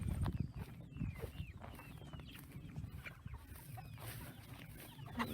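Meat chickens out on pasture cluck and chatter continuously, several birds at close to middle distance, fairly quiet, with scattered rustling and footsteps.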